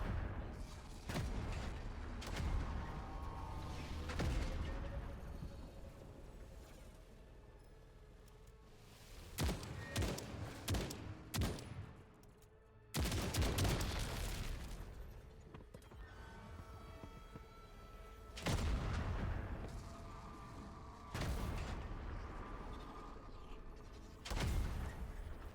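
Gunfire in the tank shooter game TankHead, aimed at spinning props, comes as repeated bursts of booming shots with pauses between them, loud and steady over a continuous rumbling background.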